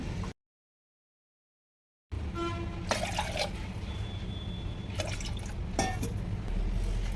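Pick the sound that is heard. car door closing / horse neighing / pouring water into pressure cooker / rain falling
pouring water into pressure cooker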